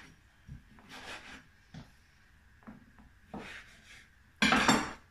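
A knife cuts raw chicken into chunks on a board, producing several short scraping and rubbing strokes spaced irregularly, ending in a louder, harsher cut, close and quiet between strokes.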